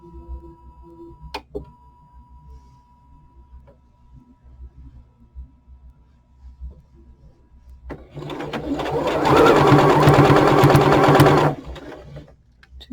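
A sewing machine stitching fabric for a hat runs in one loud, steady burst of about three seconds after a quiet stretch with a few faint clicks.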